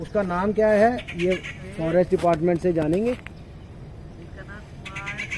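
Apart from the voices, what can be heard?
birds calling in a wildlife sanctuary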